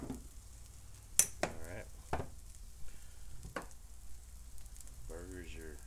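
Quinoa veggie burgers crisping in a frying pan give a steady sizzle, broken by a few sharp utensil clinks and brief spoken remarks.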